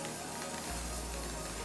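An aerosol spray paint can hisses in a continuous, fairly loud burst, with a low thump partway through as the spray carries on steadily.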